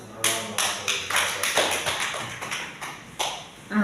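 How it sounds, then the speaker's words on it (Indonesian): Applause at a school discussion session, a small group of hands clapping in irregular bursts that swell and fade, close and fairly loud. "Tepuk tangan"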